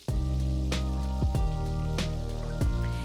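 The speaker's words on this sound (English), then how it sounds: "I'm going to add 200 grams of yogurt to this." Yogurt with chili powder sautés over a low flame in an oiled pan for a Rajasthani thali, giving a soft, steady crackling sizzle broken by a few distinct spoon scrapes.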